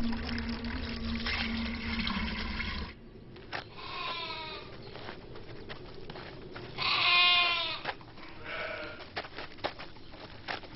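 Sheep bleating outdoors by a stone watering trough at a ruined Byzantine church site, with several loud, wavering bleats rising over a steady background hiss and a low hum that drops away early on.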